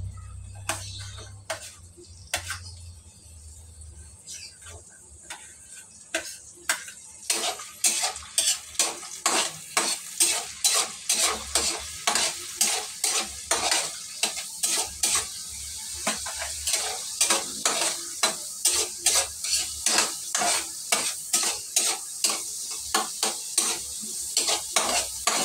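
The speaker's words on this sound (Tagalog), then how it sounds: "i-saute na natin yung sibuyas saka ang bawang" Onion and garlic sauté in oil for spaghetti, starting with sparse clicks and then building into rapid, rhythmic scraping of a utensil against the pan over a steady close sizzle, without talk.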